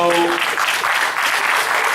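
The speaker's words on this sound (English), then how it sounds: "you guys are clapping because I'm an ass" Audience clapping at a freethought convention talk fills the room as dense, steady applause, with a brief voice at the very start before the clapping takes over.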